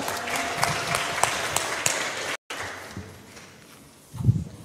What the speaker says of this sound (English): Praise clap for God.